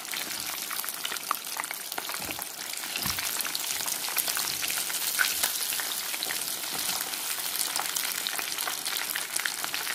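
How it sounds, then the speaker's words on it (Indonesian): Tofu crisp-frying in hot oil, a steady dense sizzle with fine crackling pops throughout, close and continuous with no talking. "masak tahu goreng crispy"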